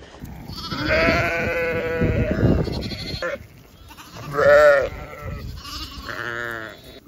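Sheep and lambs bleat in a field, with several loud, close calls in separate bursts, including a long wavering cry at the start and shorter bleats later. Wind rumbles underneath.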